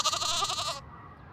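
Animated sheep bleating in a drought-stricken pasture, a single wavering harmonic bleat lasting under a second, loud and close, then fading into quiet background.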